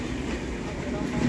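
Malda Town–Sealdah Gour Express train pulling into Bandel Junction, a steady low rumble of rolling wagons close by for over a second, with faint voices in the background.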